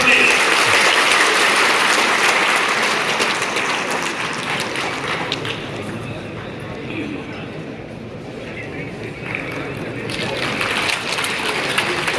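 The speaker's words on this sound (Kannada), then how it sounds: "ಚಪ್ಪಾಳೆ" Applause at a veterinary examiners' association ceremony, a dense sustained crowd clapping that stays loud throughout, dips slightly midway, then swells again near the end.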